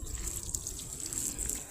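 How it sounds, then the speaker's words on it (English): Water poured over container-grown garden plants, a steady close splashing and trickling that keeps up evenly without any voices. "let me water this stuff."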